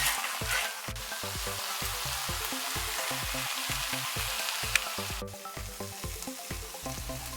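Spicy boneless chicken feet stir-fry in a hot pan with garlic scapes, giving a steady loud sizzle broken by rhythmic scraping and stirring strokes, with no voices.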